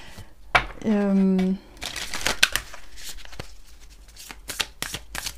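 Oracle cards are shuffled by hand in a quick, papery flurry of clicks and riffles, close and fairly quiet, with a person talking around it.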